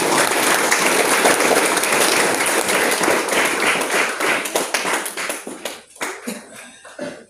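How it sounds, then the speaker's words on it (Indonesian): Children clapping together at a church anniversary service, a dense loud burst of applause that thins into scattered individual claps near the end. "Semua anak-anak tepuk tangan semua."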